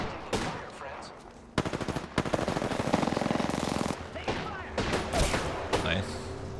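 Rapid automatic gunfire in the video game Apex Legends, with several loud bursts of fast repeating shots separated by short gaps and scattered single shots, over a busy game soundscape.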